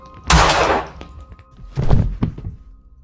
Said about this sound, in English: He put the pistol in his mouth and pulled the trigger.